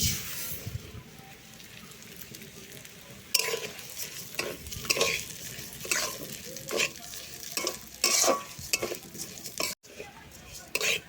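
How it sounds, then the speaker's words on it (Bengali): Mung dal dry-roasts in a wok as a spoon stirs it, making a soft steady sizzle broken by repeated close scraping strokes against the metal. "মুগের ডালটা এবার একটু কড়াই ভেজে নেবেন"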